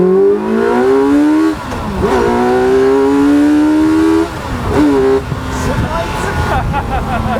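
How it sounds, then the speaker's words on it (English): A T-Rex RR three-wheeler's engine revs up in rising, close, loud sweeps that drop and climb again, while people talk over the engine noise. "Oh God, don't rev it from 9, please."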